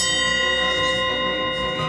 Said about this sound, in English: a ring of the bell gets the show on the road